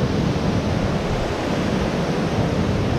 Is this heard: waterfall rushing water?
yes